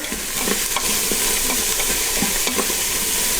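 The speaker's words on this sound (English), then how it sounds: "celery, onion, and carrot. And I'm going to give these a nice stir" Celery, onion and carrot sauté in an Instant Pot while being stirred, making a dense steady sizzle with soft scraping strokes from the utensil, close and continuous, with no voice.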